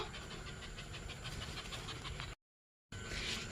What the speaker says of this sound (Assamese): ইহঁতকেইটা হৈছে নগা কুকুৰ